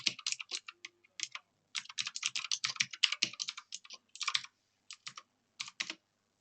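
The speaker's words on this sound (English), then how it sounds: "that's effectively me clicking in the boxes and typing" Keys on a computer keyboard clatter in quick, uneven bursts of close, crisp taps separated by short pauses, with no voices present.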